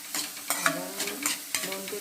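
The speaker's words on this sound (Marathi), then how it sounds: "त्यात पहिलं आपण तेल घालूया, नंतर कांदा घालूया, मिरची घालून घेऊया" Chopped onion and green chili sauté in oil in a pan over a low gas flame, giving a soft sizzle broken by several short scraping stirs of a spoon, with no voice.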